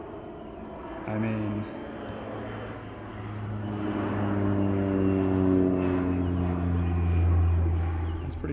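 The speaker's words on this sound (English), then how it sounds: "And the plane is coming back." A propeller airplane drones overhead above a golf course, its low harmonic hum swelling steadily louder as it approaches, with someone talking briefly over it.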